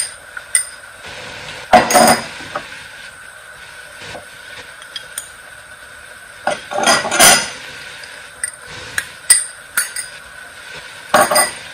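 A spoon stirring jeera chicken masala in a cooking pot, giving irregular metallic clinks and scrapes, some sharp and a few clustered, spaced by quiet gaps.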